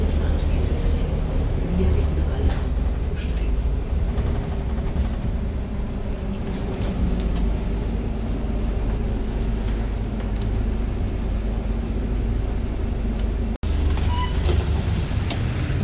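Riding inside a rigid Hamburg Hochbahn 7900 city bus: a steady low engine and road rumble runs throughout, with a sharp brief click near the end and faint voices in the cabin.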